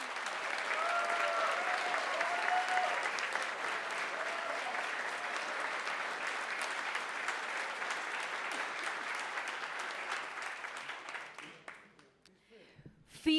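An audience at a cabinet swearing-in ceremony gives sustained, dense applause of many hands that holds evenly for about eleven seconds before tapering off into quiet.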